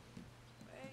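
A few spaced hoofbeats from a horse in Red Dead Redemption 2 land over a low, steady background.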